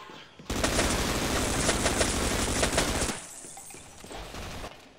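Rapid automatic Uzi fire in the co-op shooter Half-Life: Sven Coop, a loud dense burst of overlapping shots lasting a few seconds before cutting off abruptly into quieter game ambience.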